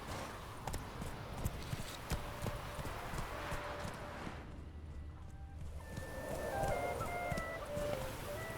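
Horse hooves clip-clop in a steady trotting rhythm in the video game The Witcher 3, close and continuous, with a short quieter break in the middle before the gait resumes over a faint background.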